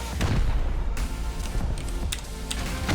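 Explosions in the Rust survival game: repeated heavy booms and sharp blasts in quick succession, loud and close, with rumbling low-end throughout.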